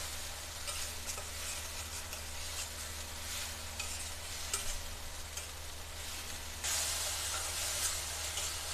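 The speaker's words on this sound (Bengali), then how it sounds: "দিয়ে আবার নাড়তে হবে আমার এই মশলাটাকে ভালো করে কষিয়ে নিতে হবে" A chili and onion paste masala stir-fries in a pan with a soft, continuous sizzle and light stirring, the frying swelling louder near the end, and no voices.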